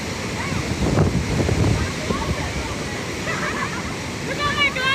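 Victoria Falls sends a continuous broadband roar of falling water and spray across the scene, steady and enveloping, with voices faintly in the background.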